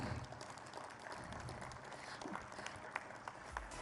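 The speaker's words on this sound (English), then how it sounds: "Ladies and gentlemen, a huge round of applause." Audience applause at a business excellence awards ceremony with the state chief minister attending, a steady, fairly faint wash of clapping from a large room that holds evenly throughout with a few sharper claps near the end.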